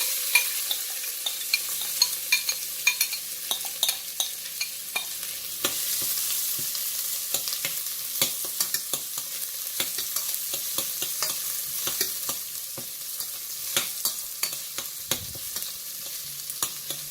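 Onions frying in a pan with salt and spices, a quiet continuous hiss of oil punctuated by many small crackles and pops, close by with no voices.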